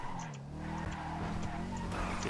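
A car braking hard in GTA V during a chase race, tires squealing and skidding under a steady engine drone, fairly faint throughout.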